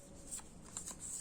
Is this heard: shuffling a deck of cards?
yes